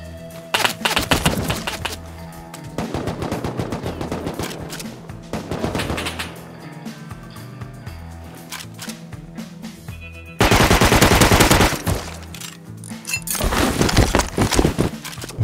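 Suppressed bolt-action rifle turret in the game Rust, heard with dense bursts of rapid, rattling gunfire in several loud volleys, separated by short lulls, with the heaviest stretch near the end.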